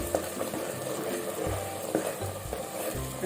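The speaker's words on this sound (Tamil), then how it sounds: "இதே நம்ம நல்லா கைவிடாத கொஞ்சம் கிளறி விடணும்" Biryani masala with cashews fries in a pot, a steady sizzle under regular scraping stirs of the spoon against the base, close and fairly loud.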